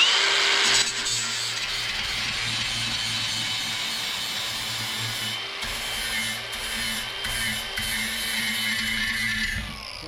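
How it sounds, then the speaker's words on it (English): A flap disc grinding wheel made for aluminum cleans an aluminum piece, producing a continuous, fairly loud abrasive whir and rasp that holds steady for several seconds. "this is my flapper disc, and you see it says aluminum on it. It's made for grinding aluminum"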